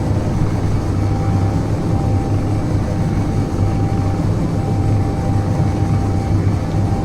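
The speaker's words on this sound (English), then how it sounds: "So now we're just floating on our atmospheric thrusters here." Atmospheric thrusters of a hovering ship in a space-engineering video game produce a loud, unbroken low rumble with a steady droning hum, filling the whole stretch without change.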